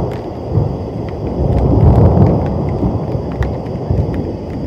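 Deep rolling thunder with steady rain at a solo SUV campsite in Lassen National Forest during a thunderstorm, a loud broad rumble swelling in the middle and easing off, with scattered sharper rain taps throughout.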